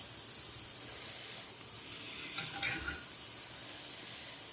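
Ingredients dropped into hot oil in a pan for spicy mutton curry give a low, steady sizzle and hiss, with a brief louder crackle partway through.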